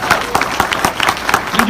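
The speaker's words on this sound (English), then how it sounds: "Can we give that a round of applause?" A charity business meeting audience breaks into a short round of applause, close and lively, with scattered claps and a voice or cheer mixed in.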